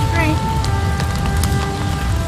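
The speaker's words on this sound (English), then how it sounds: "it's raining! It's really raining!" Rain falls steadily in a forest setting as a dense, even patter that holds throughout, with faint tonal sounds layered on top.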